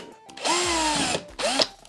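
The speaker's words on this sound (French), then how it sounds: "On va pouvoir se servir de ces 4 trous pour percer à 3 mm." Power drill boring 3 mm holes through a clock part: two close, loud whirring bursts, a longer run then a shorter one, with the motor's pitch rising and settling under load.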